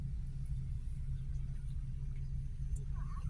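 Engine of a manual-transmission car during a beginner driving lesson, idling with a light steady rise in revs, a constant low rumble close by and no voices over it.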